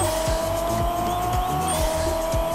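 A race car in the Pixel Car Racer mobile game revs and shifts, its engine note rising and dropping in quick repeated pulses over a steady high whine, loud and continuous with no talk.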